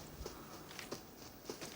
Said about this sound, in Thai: เหมือนจะมีเสียงเท้ามาแล้วครับผม